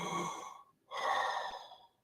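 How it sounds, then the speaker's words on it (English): Heavy, laboured breathing of a swimmer floating on their back with ears underwater, two long muffled breaths with a short silent pause between them, close and alone with no talk. "listening to my breathing."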